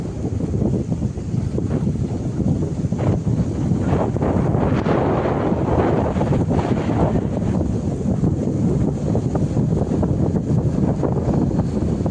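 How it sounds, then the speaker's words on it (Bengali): Strong wind whips across a rough river, with waves slapping against the bank. A loud, constant roar of gusts buffets the microphone throughout, and the rush of water is blended into it. "আজকে নদী পুরো উত্তাল হয়ে গেছে এত হাওয়া দিচ্ছে আর ঢেউটা পাড়ের গায়ে এসে আছড়ে পড়ছে"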